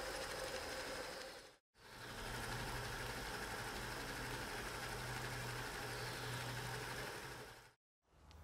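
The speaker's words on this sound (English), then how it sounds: "We'll leave it running for a good while. That pump is so incredibly quiet." An oil pump feeding the spindle bearings of a Harrison lathe runs with a steady, close, even mechanical whir and low hum, cutting out briefly twice.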